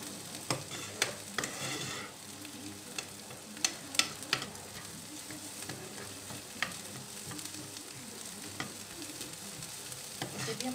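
Green chillies fry with a steady sizzle in a pan, broken by sharp, irregular clicks and scrapes of a spatula stirring them, all close and fairly loud with no talking.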